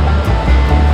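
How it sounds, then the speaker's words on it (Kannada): Steady rushing water of a river flowing near a forest trail close to the Yana Caves in Gokarna, a continuous broad roar with low rumble, loud and close, no voices. "ಇಲ್ಲಿ ನದಿ ಹರಿತಾರೋ ಸೌಂಡ್ ಕೇಳಿಸ್ತದೆ"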